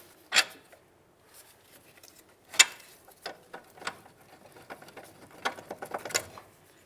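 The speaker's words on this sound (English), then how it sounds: "Now let's use a 21mm wrench on each of these bolts right here, and we'll remove the 21mm nut on the rearward side as well." Hand wrench working the 21mm strut-to-knuckle bolts on a 2007-12 Nissan Sentra front strut, giving sharp, close clicks and clanks spaced irregularly, with a burst of quicker ratcheting taps near the end.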